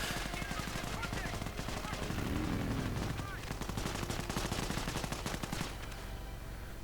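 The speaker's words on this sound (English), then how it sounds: "Commandos with their lovely little Sten guns firing away" Sten submachine guns fired by commandos in a World War II video game battle, with dense rapid bursts of automatic gunfire crackling continuously alongside other battle noise.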